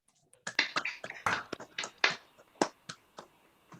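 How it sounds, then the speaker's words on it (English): Scattered, uneven hand claps from a small group at a chamber of commerce talk, about a dozen distinct claps close by, irregular and separated by short gaps. "we can all now give the Old Guard salute of lots of clapping hands"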